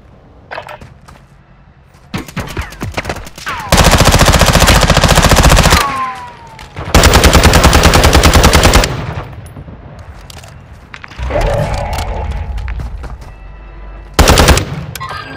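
Automatic weapon fire in Call of Duty: Modern Warfare II Warzone comes in loud, dense rattling bursts separated by short lulls, with some scattered single shots and no voices.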